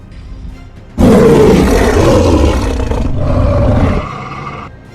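Werewolf roaring and growling as a story sound effect: a sudden loud, snarling roar bursts in after a quiet moment, holds for about three seconds, then trails off in a lower growl.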